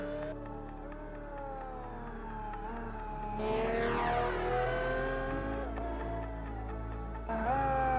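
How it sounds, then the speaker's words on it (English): A Pagani Zonda R race car engine in BeamNG.drive howls loud and close, rising through revs, surging into a high shriek, then dropping away and climbing again after a gear change. "The Zonda R doesn't just drive, it screams its way around every corner."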